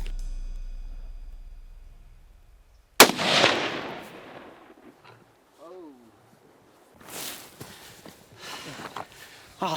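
A single loud rifle shot cracks out during a deer hunt, followed by a fading echo across open country, then faint rustling and movement sounds afterward.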